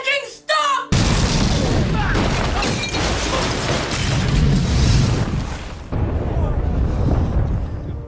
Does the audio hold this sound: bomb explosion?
yes